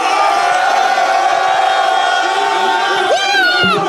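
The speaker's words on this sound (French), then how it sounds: "Un maximum de bruit pour Tilou, s'il vous plaît." A large crowd cheers and shouts loudly and continuously, a dense roar of many voices with a few higher whoops rising near the end.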